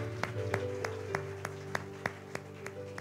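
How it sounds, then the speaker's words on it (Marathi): A church congregation claps in unison during a Sunday sermon, about ten evenly spaced, crisp claps in a steady rhythm over a low, sustained background hum, fairly soft and slightly distant. "Clap for the Trinity."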